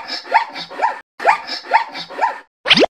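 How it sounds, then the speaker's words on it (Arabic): A zebra call: two bursts of rapid, harsh, barking yelps, each of about four pulses, close and loud, followed by a brief sweeping whoosh. "صرصرة حمار الوحشي"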